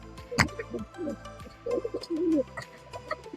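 Pigeons in a loft during the rainy season coo in soft, low, repeated calls close by, mixed with wing flutters, a sharp thump and scattered chirps.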